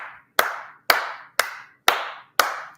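Five sharp hand claps from one person, evenly spaced about half a second apart, close and loud, each with a short decaying ring in a quiet room, no talking.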